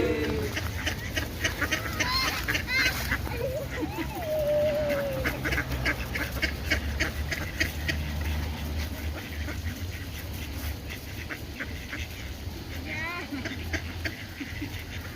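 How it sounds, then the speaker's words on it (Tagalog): Ducks quack repeatedly in a noisy outdoor setting in Las Rozas, Madrid, with people talking nearby over a steady background hum. "Daming pato oh."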